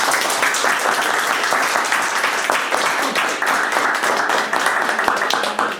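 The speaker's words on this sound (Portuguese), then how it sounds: "uma salva de palmas para todos" Applause from the audience at a community gathering on ancestral voices and paths, many hands clapping densely and steadily throughout, fairly loud and close, with no speech over it.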